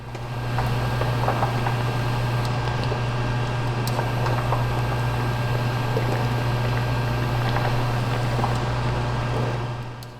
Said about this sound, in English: cover the pan while it cooks on medium-high heat for about 20 minutes